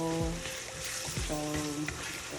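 Steak sizzles in a hot pan for a bourbon steak, a steady quiet frying hiss running throughout beneath a low tonal hum.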